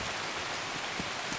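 Steady rain in the Escape from Tarkov video game, a continuous broadband hiss of falling drops with a couple of faint soft taps, moderately quiet and heard alone without talk.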